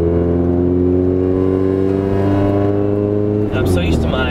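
A GSR ED6 car engine drones loud and steady from inside while driving, holding an even pitch before a brief shift near the end.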